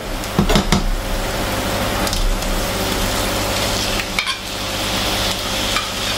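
Chicken pieces fry and sear in a hot pan with softened onion, giving a steady broadband sizzle with a few sharper clatters near the start and a brief lull partway through, close and fairly loud, without talk.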